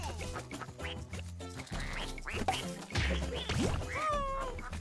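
A cartoon duck quacks in the platformer game Rayman Legends, its nasal calls rising and bending over busy game music and effects, repeated several times across the stretch and fairly prominent in the mix.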